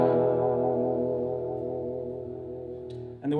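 Electric guitar played through two Traynor amps at once, a single sustained chord ringing thick and full with slight effects, slowly fading before a brief scrape at the end.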